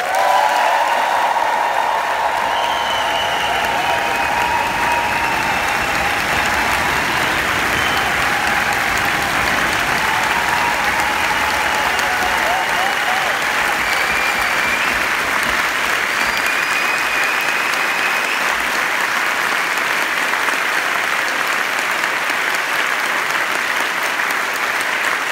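A gospel concert audience gives sustained, dense applause for the songwriter, loud and steady for the full twenty-five seconds with no pause.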